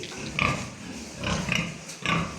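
Five-month-old pigs grunting and squealing in short bursts, three clusters of snorts at a moderate distance, with farmyard background noise between them.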